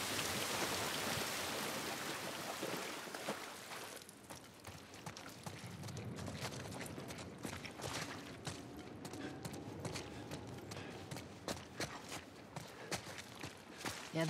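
Rain falls in a ruined outskirts area in The Last of Us Part 1, a soft hissing patter with trickling water, joined by scattered footsteps and small scuffs over a low steady wash.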